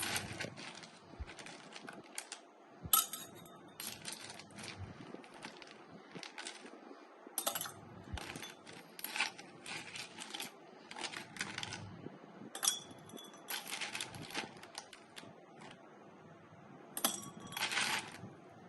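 Ice cubes drop into a glass cup of lychee tea, giving repeated sharp clinks and rattles in irregular clusters, close but fairly quiet, with no talk.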